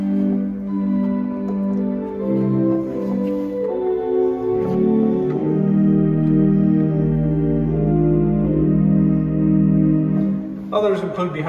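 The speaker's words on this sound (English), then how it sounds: "So you have flute celeste or the Erzahler celeste." A Rodgers 790B organ sounds its soft Erzahler celeste stop in sustained, gently shimmering chords that shift through a slow progression, close and clear, ending with a brief noise.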